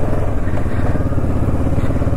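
A 2023 Kawasaki Versys 650 motorcycle engine drones loud and steady on a ride home, a constant close rumble with no breaks.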